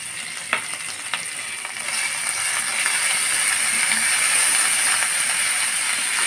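Spices, dried chili, chili paste, ginger paste and salt frying in oil for a mustard-paste fish dish, with a steady sizzle that grows louder after a few light stirring clinks.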